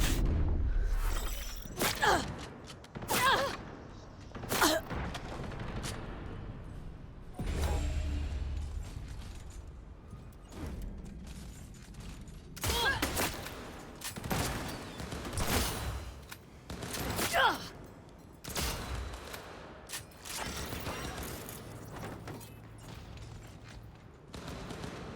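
Gunfire and shattering impacts from a firefight in the video game Cyberpunk, scattered bursts and sharp cracks recurring over the whole stretch, with voices calling out in between.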